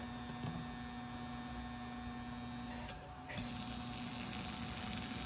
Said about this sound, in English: Look at that, the front motor's running.